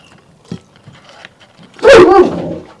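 A single loud, close dog bark breaks out after a stretch of near-quiet with faint scattered knocks and small noises.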